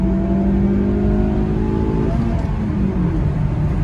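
A Honda City and a Toyota Corolla Altis accelerate hard side by side in a drag race, a loud steady engine drone heard close from inside one car, its pitch climbing then dropping at a gear change.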